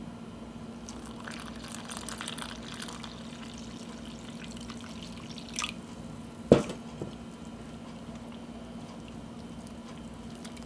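Water being added to flour and salt for hardtack dough, a faint pour with a brief wet squish and splash near the middle, set over a steady low hum.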